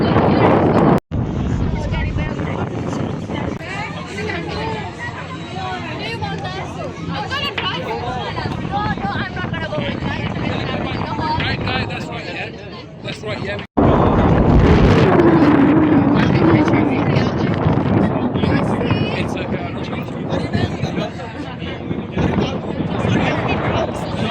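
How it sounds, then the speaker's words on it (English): Cold wind buffets the microphone outdoors on a boat during a party on the water in London, a steady loud rushing roar that runs almost without a break through the whole stretch. "Cold breeze is flowing."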